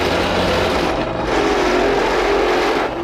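A drill bores bolt holes in a metal engine bracket for a Predator engine swap on a Coleman CC100X minibike, giving a steady, loud whirring drone for about three seconds with no talking.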